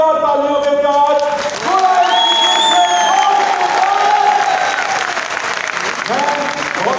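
Loud, dense audience applause with cheering fills a grand product launch event in Gorakhpur, steady throughout with voices shouting over the clapping.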